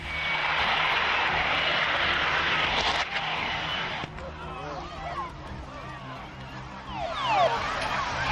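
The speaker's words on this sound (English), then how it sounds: "The Harrier jumped jet ditches into the sea at Lowestoft Air Festival" A Harrier jump jet ditching into the sea at the Lowestoft Air Festival in 2002, with a loud, steady jet roar that thins out partway through and is joined by higher whining tones and shifting engine sounds near the end.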